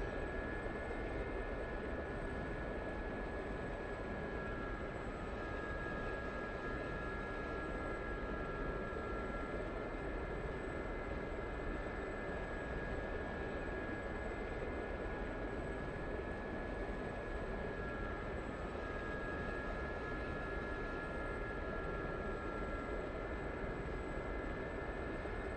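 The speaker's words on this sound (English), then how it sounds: "It's a really simple chopper." A Gazelle helicopter flies in a VR combat game, its turbine whine and rotor roar holding a steady, dense drone throughout, with a thin high tone riding on top and no voices.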